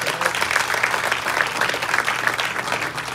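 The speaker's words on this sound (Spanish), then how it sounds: "Denle un aplauso al Señor por eso." Congregation applauding during a church service, a sustained, even wash of many hands clapping at moderate volume, with a faint voice or tone rising above it at intervals.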